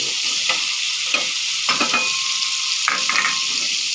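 Broccoli stir-fried with bacon hisses loudly in a pan, a dense continuous sizzle punctuated by repeated scraping strokes of a spatula.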